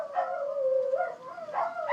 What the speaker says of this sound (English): So they keep howling and barking and going like it's the moon.